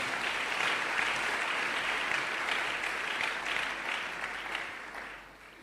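Congregation at a church service applauding together, a steady wash of clapping from many hands that holds evenly for about five seconds, then thins and fades out.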